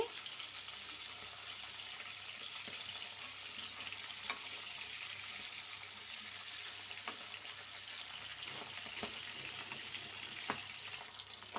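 Brinjal and dry fish frying in oil in a pan, giving a steady, faint sizzle with occasional small pops and crackles throughout.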